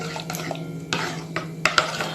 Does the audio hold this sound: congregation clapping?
no